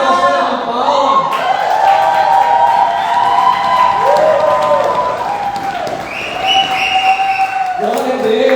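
Church congregation applauding for a pastor during a youth service, sustained crowd clapping and cheering mixed with voices and music throughout, moderately loud and steady.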